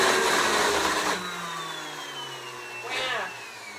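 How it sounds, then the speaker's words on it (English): Kitchen blender whirring loudly while blending carrot top chimichurri, then dropping in pitch and briefly surging again; the appliance was reported as faulty and struggling. "my blender was on its fritz too, so I'm having a little bit of blender issues"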